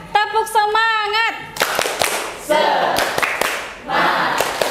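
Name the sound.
class doing rhythmic spirit clapping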